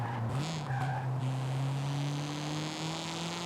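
A car engine held at full throttle in the video game Forza Horizon, whining loudly and steadily with a rising drone, while the tires spin and squeal instead of gaining grip.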